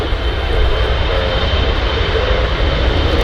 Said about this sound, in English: There's the AirFrance hop going. Back to Charles de Gaulle.